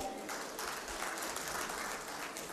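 An audience at a youth inspiration award ceremony in a hall claps continuously, a dense, steady wash of applause at moderate distance with no pauses.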